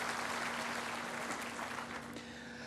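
Delegates at a professional accountants' seminar applaud, a steady, moderately distant wash of clapping over a low hum from the hall's sound system.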